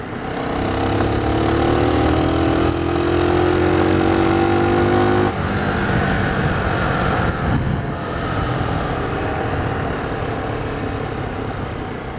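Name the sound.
Lexmoto 125 Assault motorcycle engine revving while riding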